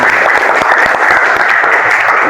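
Audience applause in a classroom, a dense, loud burst of steady clapping from many hands filling the whole moment without pause.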